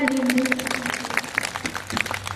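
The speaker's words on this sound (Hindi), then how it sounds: "इस लाइन पे आपकी तालियां कमजोर रह गई" An audience claps at a birthday celebration for Mayawati: a steady patter of applause under a voice, with a held musical tone fading out partway through.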